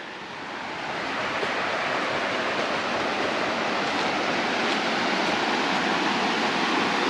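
Creek water rushes through a small flume in the woods, a loud, steady broadband roar that swells up in the first second and holds constant.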